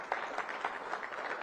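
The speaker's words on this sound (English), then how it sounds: "let's give a round of applause for the young people that are in the room" A room of people at a community listening session giving a round of applause, steady moderate clapping from a modest crowd, continuous throughout with no talk over it.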